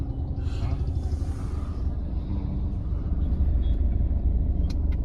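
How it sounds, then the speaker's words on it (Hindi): Heavy jammed traffic on VIP Road in India, a dense low rumble of idling cars, trucks and buses close by, with faint hiss and short high squeaks near the end, no clear speech. "VIP रोड की वाइब, लेकिन ट्रैफिक इतना जाम रहता है ना यहाँ पे, कोई कहने की हद नहीं है।"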